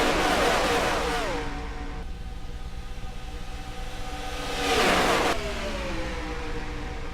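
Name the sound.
NASCAR trucks racing at Talladega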